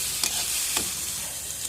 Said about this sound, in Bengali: দিয়ে এখন সব কিছু একসঙ্গে ভালো করে নেড়ে করে মিশিয়ে নেবো ভালো করে